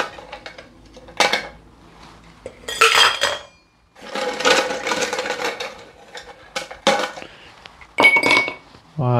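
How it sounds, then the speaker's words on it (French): Ice cubes dropped into a cocktail shaker and glass, a series of sharp clinking and rattling bursts with short pauses between them, close and fairly loud. "on va toujours remplir son shaker et son verre de glace"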